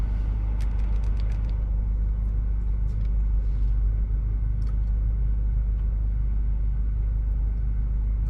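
A BMW car's running engine while reversing, heard from inside as a steady low rumble with faint cabin ticks and small clicks in the first few seconds, with no talking.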